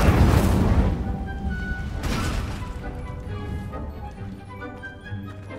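An Incendio fire spell cast in the Hogwarts Legacy video game, two sharp booming bursts of crackling flame about two seconds apart, each fading into a rumbling tail with faint chiming tones.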